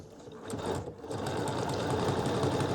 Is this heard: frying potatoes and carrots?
no